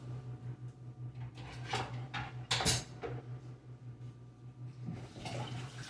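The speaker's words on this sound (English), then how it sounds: "I'm gonna wash out a spatula" A spatula is rinsed under running tap water in a kitchen sink. The water gushes and splashes unevenly, with a few clunks of the utensil against the sink, and there is no talk.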